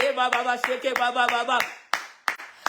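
A church congregation claps in a steady, quick rhythm, the sharp claps landing over sustained voices that sing or call out together, with a few last separate claps trailing off at the end.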